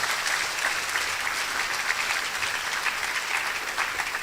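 A crowd at a university alumni gathering claps steadily and evenly, a full, sustained round of applause at close range with no speech over it.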